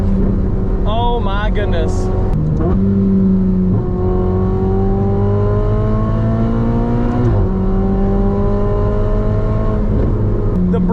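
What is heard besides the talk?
Ferrari 488 Spider engine downshifting through gears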